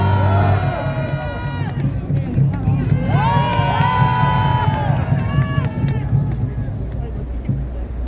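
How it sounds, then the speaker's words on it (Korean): A crowd at a political rally hall claps and cheers as a lawyer is called to the stage, with a continuous roar of applause and shouting voices and a loudspeaker voice over it. "큰 박수 부탁드립니다."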